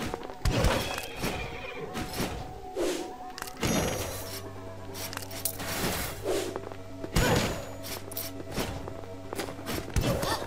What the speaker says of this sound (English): These horses are stuck!